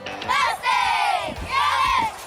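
A crowd of school students chants and yells in unison at a pep rally, three long shouted bursts separated by short pauses, loud and close with a rhythmic cheer-like cadence.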